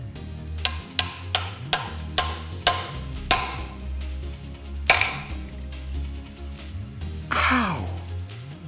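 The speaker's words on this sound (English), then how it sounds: "Now I'm gonna hammer this guard back on and see how the fit looks." A hammer strikes a metal guard being fitted onto a sword blade, a run of about eight sharp, ringing metallic blows at a steady rhythm, then a few heavier, irregular hits with trailing ring, close and clear.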